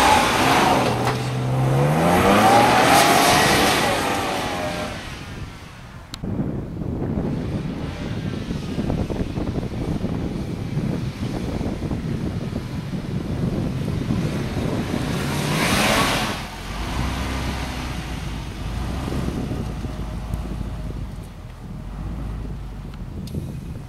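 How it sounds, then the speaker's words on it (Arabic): A 2016 Land Rover LR4 HSE driving over an unpaved dirt and sand road, with a steady engine drone, tyre rumble and wind buffeting that swells early on, fairly loud and continuous, with no talking. "نعطيكم فكرة عن أداء السيارة الحين على الطرق الغير ممهدة"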